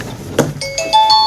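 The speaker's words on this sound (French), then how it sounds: "À la fin de la sonnette, je ne vais entendre plus personne." A button-pressed bell rings with a sharp click followed by a few bright, sustained chime tones stacking up, loud and close in a quiet room.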